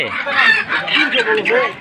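A native country chicken clucks close by in quick, uneven bursts, with a busy, noisy village market backdrop.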